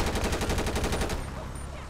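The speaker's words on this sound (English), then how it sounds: "Oh, he's shooting at me." Rapid automatic gunfire from the video game GTA San Andreas, a loud steady burst of evenly spaced shots lasting about a second before cutting off into background hum.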